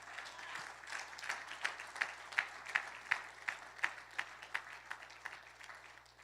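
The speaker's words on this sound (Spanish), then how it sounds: "Dele ese aplauso al rey." A church congregation gives a distant, quiet round of applause, with scattered rhythmic clapping that swells slightly and then fades.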